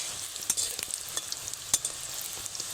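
Puffed nimki pastries fry in hot oil over medium heat, a soft continuous sizzle broken by sharp crackling pops and light spoon clinks, close-up and quiet, with no voices.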